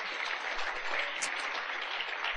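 A church congregation claps together in a steady, dense burst of applause that fills the room at moderate loudness, with no talk over it.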